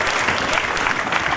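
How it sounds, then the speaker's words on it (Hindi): Loud, steady applause from an audience at a school Independence Day celebration, hands clapping continuously throughout for the chief guest and his daughter. "हमारे चीफ गेस्ट और उनकी बेटी के लिए एक मरतबा ज़ोरदार तालियाँ हो जाए"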